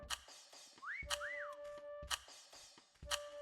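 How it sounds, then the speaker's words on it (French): A person whistles a few short rising-and-falling notes, close by, between sharp clattering knocks, while playing the game Meccha Chameleon. "Tu siffles trop, arrête."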